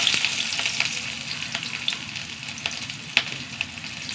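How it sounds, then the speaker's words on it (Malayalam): Mustard seeds and sliced shallots frying in hot oil, a continuous bright sizzle with scattered sharp pops and crackles, close and alone without speech. "എണ്ണ ചൂടായി, കടുക് ഇട്ട് കൊടുക്കുക."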